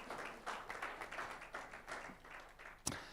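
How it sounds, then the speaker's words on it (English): Applause from a conference audience welcoming a speaker at a research and innovation session: a modest, fairly faint patter of clapping hands that rises and falls in uneven bursts, with one sharper clap near the end. "Big applause, so he is here."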